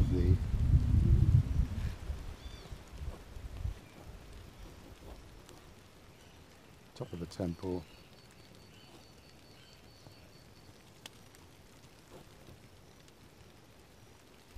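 Steady rain patters continuously, with a low rumble early on and a brief clatter midway; a voice speaks briefly over it.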